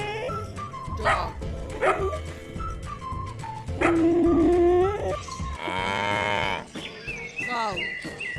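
A dog barking in short sharp bursts amid a cluttered farm soundscape, with cattle lowing and other animal calls layered around it.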